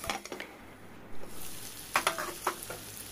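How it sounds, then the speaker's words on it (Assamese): Chicken pieces stirred and dry-fried in a pan for an Assamese chicken fry, a steady close sizzle broken by scraping stirs and a few sharp utensil knocks against the pan. "এনেদৰে পানীবিলাক একেবাৰে শুকাই গৈ মাংসখিনি ৰঙচুৱা হৈ নোযোৱালৈকে আমি লৰাই লৰাই"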